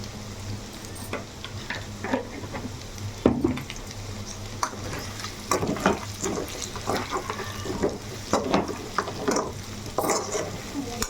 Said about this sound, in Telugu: చక్కగా బాగా వేగిపోతున్నాయి దీంట్లో